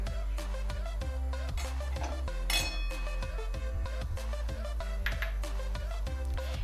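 A kadhai is moved and handled on a gas stove while making peanut chikki, giving scattered metallic clinks and clatters over a steady low hum, fairly quiet and close.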